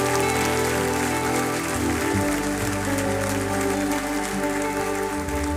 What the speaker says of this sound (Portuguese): Só uma salva de palmas a Jesus no seu lugar.